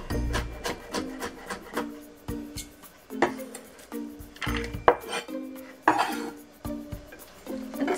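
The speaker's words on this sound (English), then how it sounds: "I'm cutting it at an angle." A knife cuts green onion on a board at an angle, giving a string of sharp, uneven chops and taps close by, each followed by a short pause, with no talking.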